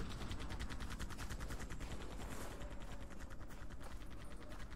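Sustained rapid automatic gunfire in a shooter video game, a dense unbroken stream of loud close shots with no talking over it.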